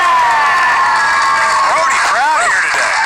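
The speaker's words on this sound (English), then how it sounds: "Rowdy crowd here today. I mean, they are definitely loud." A rowdy live audience at a movie trivia Schmoedown cheers and whoops loudly, a continuous roar with rising shouts near the end.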